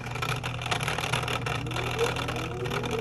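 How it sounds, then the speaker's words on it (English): Drain pump of a faulty LG washer that won't drain runs with a continuous rough, droning hum and a faint rising whine, fairly quiet and close, with no voice. "Now just listen to the pump right off rip."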